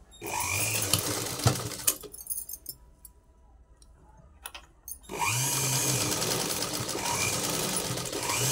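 A sewing machine stitches a latkan design in close, loud whirring bursts, with a quieter pause of a few seconds holding faint clicks before stitching resumes steadily.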